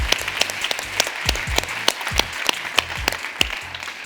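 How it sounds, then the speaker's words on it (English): Conference audience applauding at a closing session, a dense, fairly even patter of many hands clapping from a moderate distance, steady throughout with no voices on top. "One more round of applause for Team Arnie Voss."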